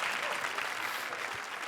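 Brief burst of audience applause at a comedy show, a dense wash of many hands clapping at once, steady and moderately faint throughout.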